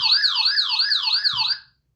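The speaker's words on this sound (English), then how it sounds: "that's my earthquake alarm." A phone's earthquake alarm sounds a loud, continuous warbling tone that rises and falls in steady waves for almost two seconds and then cuts off, with no one talking over it.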